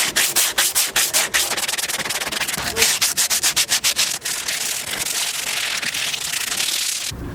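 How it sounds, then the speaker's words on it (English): Sandpaper works fiberglass and epoxy on a boat hull, first in a rapid run of rhythmic back-and-forth rasping strokes, then as a steadier continuous scrubbing close by, before stopping abruptly at the end. "sanding is very dangerous"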